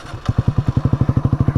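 A 2023 Kawasaki Z125 Pro motorcycle with an aftermarket exhaust idles up close, a rapid, even train of loud thumping pulses after a brief quieter start.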